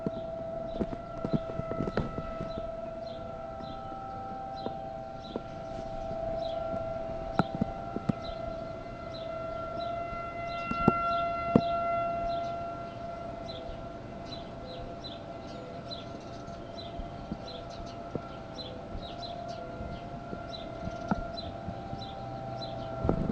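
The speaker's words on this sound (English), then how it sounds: "Hear the siren? Just while I'm recording." A siren wails steadily in the background, its tone rising and falling over a noisy outdoor scene with scattered clicks and bangs.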